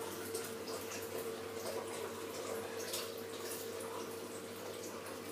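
Water poured onto an untreated mirror in a hydrophobic coating test, a steady soft splashing and trickling stream running throughout, fairly quiet and close.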